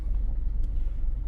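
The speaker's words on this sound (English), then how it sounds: "Now we are driving on the dirt road." A car travels along a dirt road, heard from inside as a steady, close low rumble with light wind buffeting and no talking.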